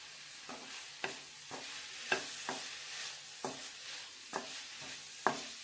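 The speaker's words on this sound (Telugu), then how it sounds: "ఇలాగే వేపుతూ ఉండాలి" Thotakura (amaranth leaves) stir-fry in an open pan, with a continuous soft sizzle broken by repeated sharp scrapes and clicks of a spatula turning the greens at a slow, even pace.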